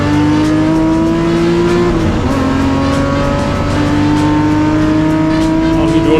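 BMW M Performance series race cars lap the Zwartkops circuit with a loud, continuous engine drone whose pitch shifts as they brake and accelerate, close and dominant throughout, with a commentator's voice faintly beneath.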